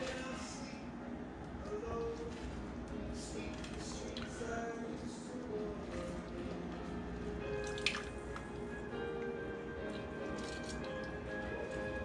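Fresh lime being squeezed by hand in a home kitchen for a cilantro chimichurri aioli, juice dripping in soft wet drops beneath a steady wash of background noise.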